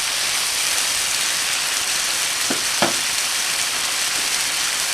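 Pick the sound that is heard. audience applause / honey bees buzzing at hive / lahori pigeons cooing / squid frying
squid frying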